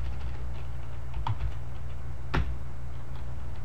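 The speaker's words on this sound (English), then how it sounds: "we can have and type in anything we want" Typing on a computer keyboard: soft scattered key taps with a couple of sharper clacks, close and fairly quiet over a steady low hum.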